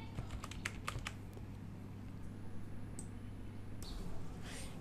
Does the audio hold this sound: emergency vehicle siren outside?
no